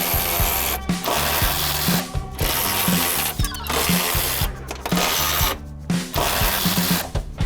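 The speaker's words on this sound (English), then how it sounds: "Still using the ratchet, but now this time without the extension" A hand ratchet spins 10mm bolts off the radiator support of a 1997–2001 Jeep XJ Cherokee, loud close clicking in steady runs broken by brief pauses between strokes.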